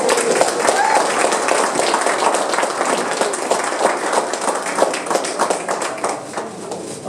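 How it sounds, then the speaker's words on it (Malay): An audience claps for Dr. Zainal at a talk, a dense, sustained round of applause with steady hand claps filling the room from start to finish. "Kita berikan tepukan yang paling kuat."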